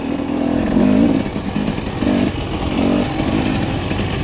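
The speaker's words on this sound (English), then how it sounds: "Twist of the throttle and you just go." A 2021 Husqvarna TE300i two-stroke enduro dirt bike revs hard on the throttle, loud and close, its engine rising and falling in several surges through the few seconds.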